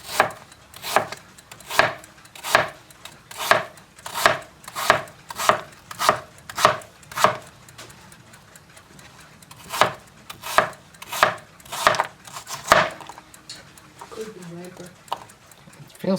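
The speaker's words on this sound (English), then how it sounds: "So we'll chop this fine" A knife chops food finely on a board in a quick, even series of sharp woody knocks, roughly two per second, close by, with a pause and light handling noises near the end.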